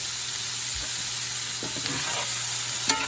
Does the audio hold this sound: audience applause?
no